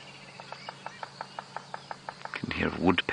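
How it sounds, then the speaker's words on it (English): A woodpecker taps on wood in the bush during a sunrise safari drive: about a dozen evenly spaced, moderately faint knocks in a steady rhythm, then a louder burst of rustling and handling noise at the end. "You can hear a woodpecker going."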